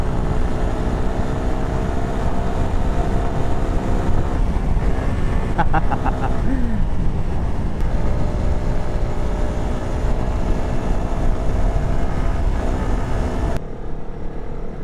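A Honda CRF300L motorcycle engine drones steadily while riding off-road on the Trans Euro Trail in Greece, buried under constant loud wind buffeting on the microphone for the whole stretch, with a brief drop near the end.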